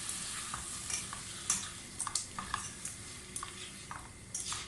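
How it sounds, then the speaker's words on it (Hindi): Tomatoes and spices are stirred and sautéed in a pot for chicken and oats soup, with soft continuous sizzling under sharp intermittent scrapes and clinks of a spoon against the pot, quiet and close. "इसे थोड़ा सा मैं भून लूँगी।"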